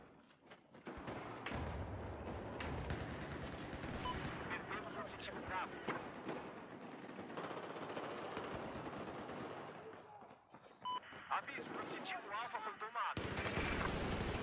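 Gunfire in the video game Battlefield 4, with rapid automatic bursts and scattered shots crackling loudly and close through most of the clip, while a player talks over the action.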